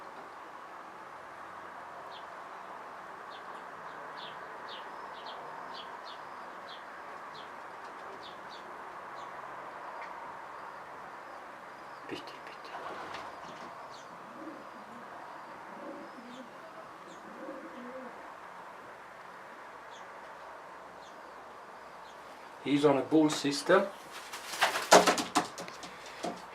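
Soft repeated cooing from a Stichelbaut racing pigeon in a loft, faint and steady amid light chirps, with brief talk and louder handling clatter near the end.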